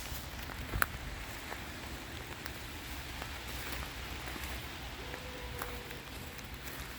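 Light rain falls outdoors on a woodland walk among Virginia bluebells, a soft, steady hiss of drops on the surroundings that stays faint and even throughout, with no voices.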